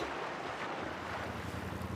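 Wind and choppy waves on open water during a triathlon swim off San Francisco, a dense roaring wash of wind buffeting and surf throughout.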